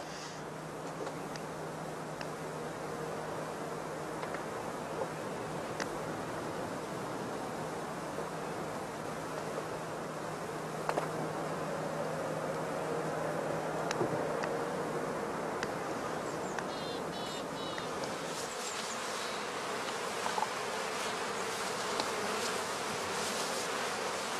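Honey bees hum at traditional straw skep hives on the heathlands of northern Germany, a dense, continuous buzz that stays steady and fairly loud throughout, with occasional closer individual bees passing.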